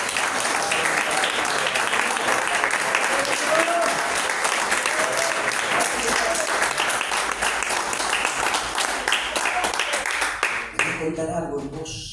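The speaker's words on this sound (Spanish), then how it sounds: "¿Quiere dar un aplauso al Señor?" A church congregation at an evangelical service claps loudly and steadily in praise, with a few voices calling out, before the applause abruptly cuts off near the end and a voice begins speaking.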